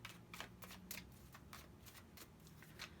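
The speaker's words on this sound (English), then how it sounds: "Let's get a good shuffle. Cut the deck." A deck of tarot cards being shuffled, with soft riffling bursts and crisp flicks repeating irregularly, close and fairly quiet against a low hum.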